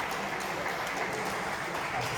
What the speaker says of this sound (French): On peut applaudir l'égalisation.